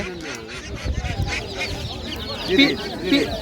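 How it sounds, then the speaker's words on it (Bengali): Chicks for sale at a rural market in Bangladesh give short clucking cheeps that grow denser near the end, over background market bustle and some talk. "মুরগির বাচ্চা"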